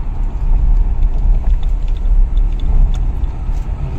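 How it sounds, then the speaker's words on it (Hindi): A Mahindra Scorpio-N Z6 SUV driving in Zoom mode, its engine giving a steady, close low rumble with road noise that holds throughout. "गाड़ी की साउंड भी चेंज हो गई है।"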